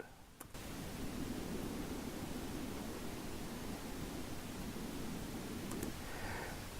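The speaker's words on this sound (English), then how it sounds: "So now here's a much more gentle wind sound." Soft, steady wind hiss, a gentle airy whoosh that holds evenly after a brief start, with a couple of faint clicks.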